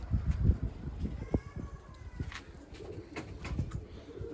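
Smoky Mardin pigeon cooing in hot weather: soft, low coos come in short bursts at close range, with some light background clatter and movement.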